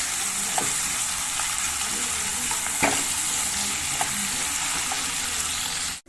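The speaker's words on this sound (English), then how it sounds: "Now add the onions and garlic, the sliced ones, the lengthwise sliced ones. Fry it until it turns light brown." Lengthwise-sliced onions and garlic fry in hot oil with a steady, close sizzle, punctuated by occasional light clicks and taps of stirring.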